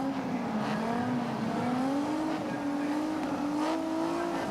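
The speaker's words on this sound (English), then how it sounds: "They're racing and getting off the line quickly as Brock." Touring cars in the 1985 Australian Touring Car Championship round at Sandown, Melbourne, surge off the start line, a loud sustained engine roar climbing steadily in pitch as the pack accelerates, with no voices over it.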